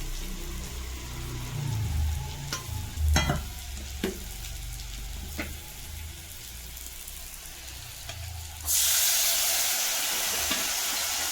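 Turmeric, Kashmiri chilli powder, cumin and coriander powder and tomato frying in a pan, a close crackling sizzle with a few scattered stirring clicks, then a sudden louder hissing surge near the end; no voices.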